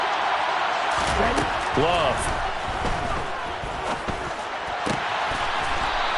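Football stadium crowd roaring steadily and loudly across the whole span, broad and distant, with scattered bangs and thumps and a commentator's voice talking over it.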